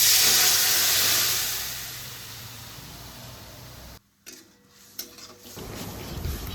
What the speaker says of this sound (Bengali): একটুখানি ফাইনালি ফ্রাই করা হয়ে গেছে, ডালটা ঢেলে